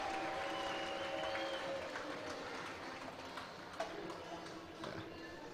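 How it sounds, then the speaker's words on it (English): A stadium crowd applauds a try at a women's rugby semi-final between Exeter Chiefs and Bristol Bears, a broad sustained wash of clapping and cheering that stays fairly steady and distant. "A huge round of applause from the crowd for the Chiefs."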